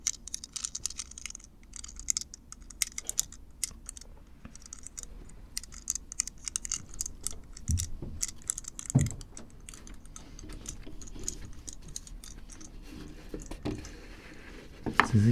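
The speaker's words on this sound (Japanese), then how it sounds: "もちろんそろばんを使うことはできません。 ですからただシャカシャカシャカシャカと音を鳴らしているだけの妖怪です。" Abacus beads rattled rapidly in a dense, dry clicking patter, close and continuous with uneven bursts and a few heavier knocks, with no speech.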